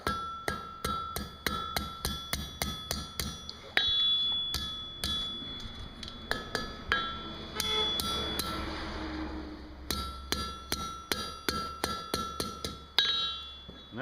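Hammer blows ringing on an anvil while forging a curl onto the end of a hot drive hook, sharp metallic strikes in quick rhythmic bursts with brief pauses, close and clear, no talk.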